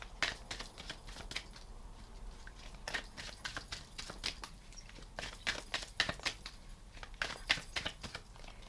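Steady, rapid riffling and flicking of a tarot deck being shuffled close by, with a clicky, irregular rhythm and no talking.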